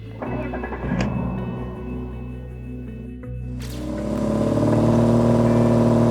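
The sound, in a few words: BMW E36 325i convertible automatic driving on the road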